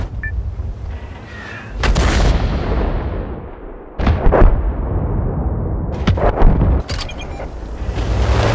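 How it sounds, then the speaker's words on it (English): Heavy artillery guns in the tank battle game World of Tanks (Frontline mode) fire in several loud, booming blasts, each followed by a rumbling tail, with a steady roar of battle noise between them. "Heavy artillery is ready."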